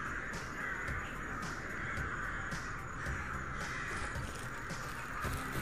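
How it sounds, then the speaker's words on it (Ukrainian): Crows caw repeatedly over a dense, steady ambient wash before an emission in the video game S.T.A.L.K.E.R. Anomaly. The calls are moderately loud, and there is no speech. "про наближення викиду попереджає каркання ворон"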